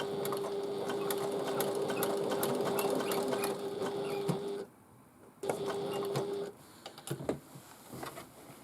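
A sewing machine stitches a fabric tote bag in a steady, close, whirring run, pauses briefly, restarts, then stops, leaving a few faint handling clicks and taps.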